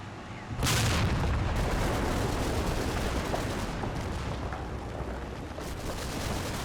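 A .30 cal machine gun firing in Combat Mission: Battle for Normandy, a heavy sustained roar of rapid gunfire and rumbling battle noise that kicks in abruptly and stays loud throughout.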